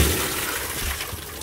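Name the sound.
water being poured or drained out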